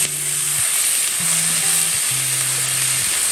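Onion, capsicum and green chilli fry in a hot pan with a loud, steady, close sizzle throughout, while faint, level tones run underneath.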